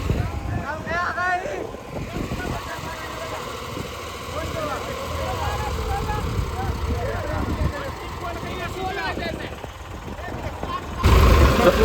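A tractor engine labours to pull free of mud, with a steady low drone running throughout beneath near, overlapping voices, and a louder surge right at the end.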